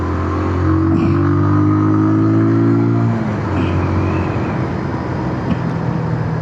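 A 2026 Bajaj Pulsar 180 motorcycle engine revs loudly and steadily up close while riding, its tone falling and roughening about halfway through, with no talking.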